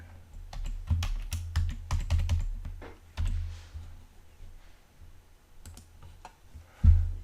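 Someone types on a computer keyboard while working in Fusion 360 design software: quick bursts of close keystrokes, a short pause, then scattered taps and one heavier final key press.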